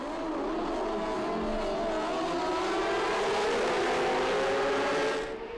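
Racing motorcycles, among them an MV Agusta, roaring off the start line together in a loud, sustained engine drone with rising pitch, heard from trackside with no talk.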